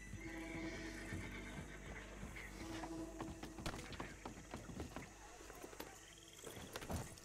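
A horse in Red Dead Redemption 2 neighs, then hooves clop in an uneven, busy rhythm with scattered knocks and rustles, fairly quiet overall.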